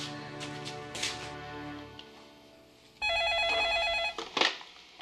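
A telephone in a home, used to call a family member: a soft dialing sequence, then a loud, steady electronic ring with harmonic tones from about the three-second mark, ending in a few brief clicks.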